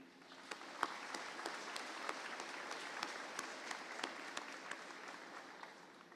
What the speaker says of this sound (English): Please join me in giving them a round of applause as well.